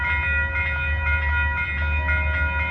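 A Metro North commuter cab car sounds its horn, a sustained multi-tone chord blaring loud and steady over a low rumble of the moving train.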